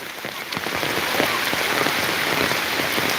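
Heavy rain pours steadily, a dense loud hiss with scattered close drops pattering on a surface throughout.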